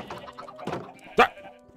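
Sheep in the video game Minecraft bleat a few times in short, close calls, the last one loudest and sharpest, with a soft thunk in between.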